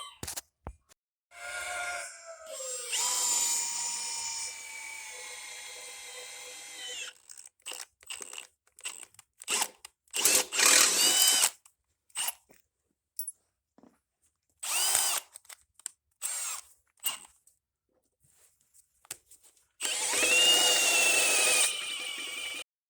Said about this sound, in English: now I'm going to drill my hole